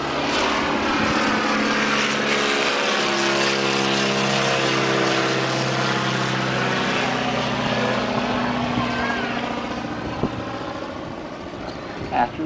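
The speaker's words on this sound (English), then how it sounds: "When he lands the aircraft, he's going to taxi it right up to here." A propeller airplane drones steadily as it lands and taxis in, the engine note holding loud and close with shifting tones, while a voice talks over it throughout.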